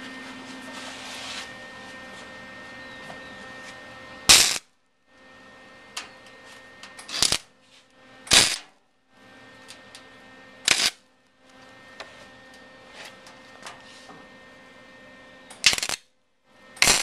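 Welding a small 20 gauge steel patch into a hole during a Datsun 260Z rebuild: about five short, sharp crackling bursts at uneven intervals over a steady background hum.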